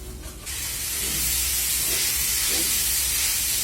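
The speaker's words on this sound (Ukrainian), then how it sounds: "Першим ділом я туди налив олії, олія розігрілась і додаю капусту." Cut cabbage hits heated sunflower oil in a pan and bursts into a loud, steady sizzling hiss that carries on without a break, close up.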